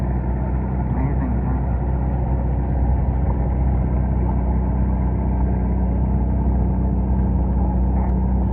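Deep, steady engine rumble from a supercar fitted with a titanium exhaust as it pulls out of a parking lot in heavy rain, a continuous loud drone with no pauses.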